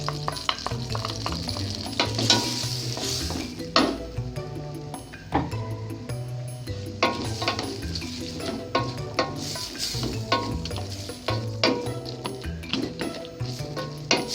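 Onion and garlic sautéing in a pan for zuppa soup, with a spatula scraping and clattering in a busy rhythm over a low sizzle, close and fairly loud throughout.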